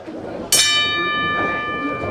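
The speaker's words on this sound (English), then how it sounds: "Bell has started here, ladies and gentlemen. Main event time." A single wrestling ring bell is struck at a pro wrestling show to open the main event. It rings with a sharp metallic onset and a sustained tone that lingers over crowd noise and commentary.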